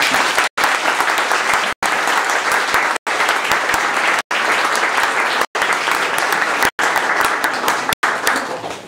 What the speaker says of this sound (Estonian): väga suur aplaus selle töö eest ja selle konkursi